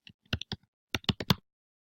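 Keystrokes on a computer keyboard come in two short bursts of crisp, close clicks separated by a brief pause, with no talking.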